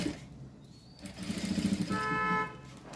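A sewing machine stitches the piping on a blouse, its motor running in two short, close bursts with a steady whirring hum and no talk.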